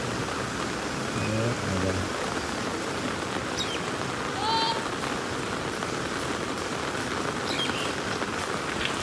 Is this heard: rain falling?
yes